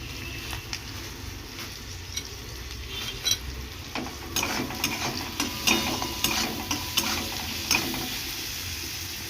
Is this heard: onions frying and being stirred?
yes